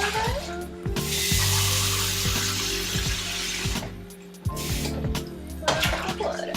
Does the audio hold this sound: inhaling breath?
no